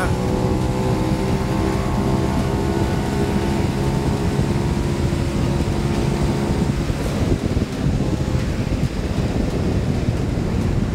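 A Benelli 752S motorcycle runs at around 120 km/h in fourth gear, its steady engine drone buried under loud, constant wind buffeting; the engine tone thins out near the end while the roar of rushing air continues.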